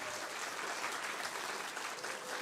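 Theatre audience at a children's performance applauding steadily, a dense continuous wash of many hands clapping at an even level for the full stretch, with no voices standing out.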